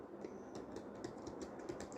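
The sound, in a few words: typing text on a computer keyboard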